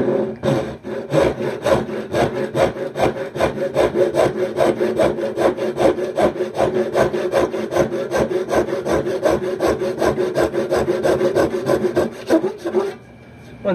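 A 12-point-per-inch hand saw with a mahogany handle and brass hardware cuts through oak in rapid, even rasping strokes, loud and close, for about thirteen seconds before stopping abruptly.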